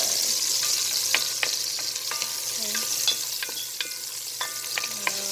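Haitian stewed chicken with green onion cooks in a pan, with a steady sizzle and repeated sharp scrapes and knocks of a utensil stirring it, close up and without talk.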